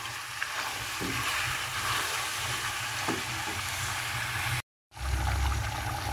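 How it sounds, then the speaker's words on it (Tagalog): A pot of chicken kaldereta stew bubbles and sizzles steadily with a dense, hissing simmer, close by and fairly loud, cut by a brief silent gap near the end. "Kumukulo na ang ating kaldereta."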